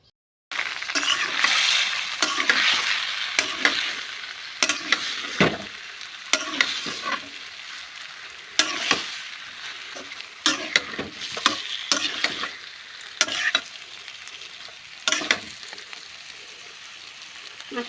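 Onions frying in oil until browned sizzle steadily close up, repeatedly broken by sharp clinks and scrapes of a utensil stirring against the pan.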